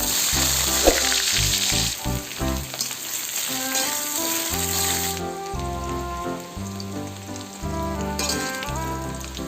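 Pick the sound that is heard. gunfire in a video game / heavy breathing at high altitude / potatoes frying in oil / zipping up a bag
potatoes frying in oil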